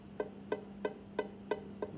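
Ukulele strummed with the fretting hand not squeezing hard enough, giving six quiet, muted, buzzy strums in an even rhythm with little sustain.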